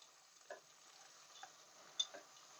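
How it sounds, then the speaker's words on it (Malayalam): Curry leaves fry quietly in a pan, a faint low sizzle with a few soft scrapes and ticks from stirring, close but quiet with no talk. "അപ്പം കരിവേപ്പിലയും കൂടി ഇട്ടു നല്ലതായിട്ട് ഇളക്കി കൊടുക്കുക."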